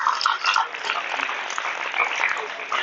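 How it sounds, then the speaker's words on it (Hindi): Loud applause from an audience welcoming a guest at a public gathering, steady broadband clapping throughout with a faint voice underneath. "एक बार जोरदार तालियों के स्वागत करें।"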